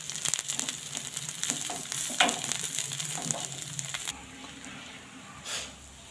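A dal and rice dosa sizzles loudly on a hot pan with scraping and crackling as it is turned over, then the frying hiss drops to a softer, steady sizzle.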